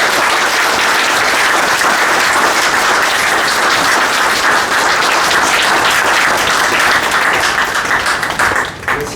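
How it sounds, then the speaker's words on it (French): A crowd at a French tribute event for a journalist bursts into sustained, dense applause that stays loud and even throughout, fading slightly at the very end. "je vous demande juste de l'applaudir."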